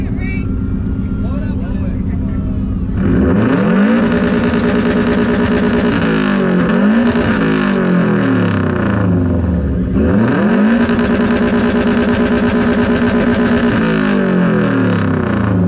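A 2008 Subaru WRX exhaust at a car meet exhaust competition, revved hard twice in long loud pulls that rise and fall back to a rumbling idle, close by.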